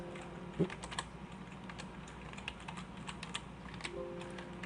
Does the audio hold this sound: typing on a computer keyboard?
yes